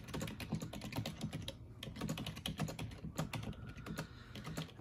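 Typing on a computer keyboard, steady clicking keystrokes in irregular bursts at close range, with no voices.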